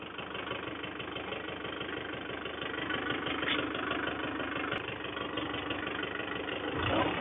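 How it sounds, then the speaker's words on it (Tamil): A Mahindra 575 4WD tractor engine runs steadily at a low idle with four-wheel drive engaged, a continuous, even diesel rumble with no voices over it. "இந்த இன்ஜினோட பெர்ஃபார்மன்ஸ் பாருங்க எப்படி இருக்கு அப்படின்னு."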